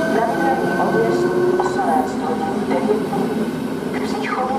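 A Czech Railways S7 suburban train stands at a platform at Praha-Běchovice station, with a steady low rumble and hum and faint squeals and clicks rising over it, while a station announcement plays.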